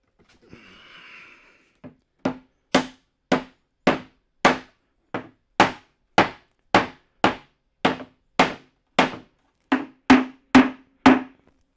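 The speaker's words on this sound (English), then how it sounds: "Mallet." A wooden mallet taps a wooden dovetail joint together in a workshop, about fifteen sharp, evenly spaced knocks, close and clear after a brief soft rustle.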